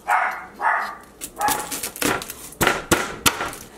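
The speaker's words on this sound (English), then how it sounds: "sorry for the puppies barking." Several sharp puppy barks, a couple of higher yelps mixed in, coming fairly close and irregular over a few seconds.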